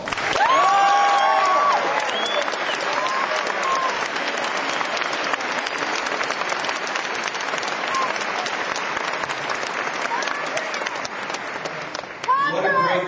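A Ron Paul rally crowd in Nashville, Tennessee bursts into sustained applause and cheering, with dense clapping and shouts running throughout. Voices rise above the din near the start and end.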